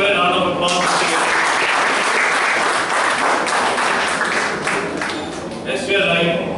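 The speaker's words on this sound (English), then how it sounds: "Please give a round of applause." A crowd breaks into loud, sustained applause, dense clapping that carries on steadily for several seconds with a few voices mixed in.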